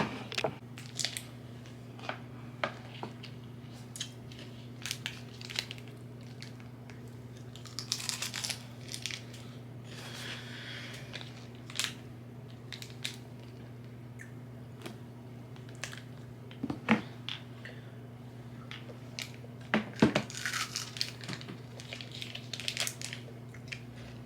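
A popsicle is being eaten up close, with scattered crunching and crinkly biting sounds over a steady low hum, sparse and irregular across about twenty seconds, with no talking.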